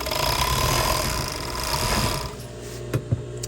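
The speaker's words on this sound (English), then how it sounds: "This actually cuts the fabric on one side, and then it's stitching as well." An industrial overlock serger with blades and a new servo motor runs steadily, its whirring motor and needle chatter cutting and chain-stitching fabric, then easing off into a couple of sharp clunks near the end.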